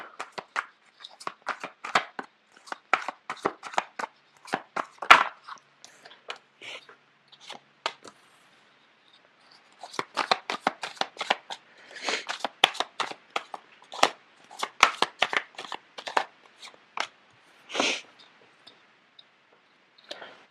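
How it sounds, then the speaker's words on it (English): Tarot cards being shuffled by hand, heard as close, dry bursts of rapid papery clicks and riffles that come in uneven clusters, with a brief pause near the middle. "The cards are not shuffling too well."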